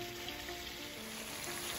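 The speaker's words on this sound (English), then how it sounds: "So after 15 minutes of my chicken frying, I turned it over." Chicken pieces fry in a pan with a steady, soft sizzle and crackle, constant and even throughout with no voices.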